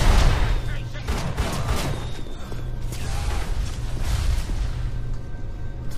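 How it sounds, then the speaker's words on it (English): Repeated grenade blasts and gunfire in a BioShock firefight, loud and dense with low booms and crackling bursts throughout, a voice speaking underneath. "he's throwing grenades and shit"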